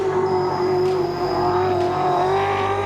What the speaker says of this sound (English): This is the heavyweight of the race, the Big Falcon.